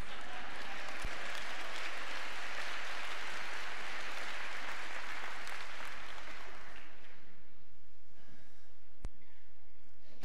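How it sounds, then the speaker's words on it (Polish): A conference audience claps for about seven seconds as a dense, loud burst of applause that then fades into a quieter room with a few scattered sounds. "You didn't clap so loud for that one."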